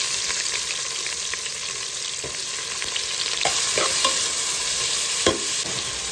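Onions fry in ghee with cinnamon, cloves and cardamom for drumstick biryani, giving a continuous close sizzle broken by repeated scraping stirs of a spoon against the pan, with no speech.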